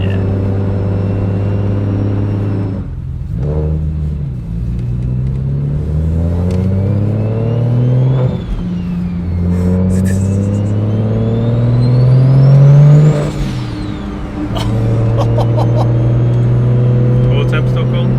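A BMW N54 engine with a single-turbo kit revs up and down repeatedly while driving at partial throttle, its rising and falling drone loud and close, with turbo whine on top and people talking over it.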